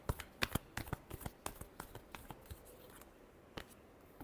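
Tarot cards being shuffled by hand in a quick run of soft, papery riffles and taps, faint and close with no talking.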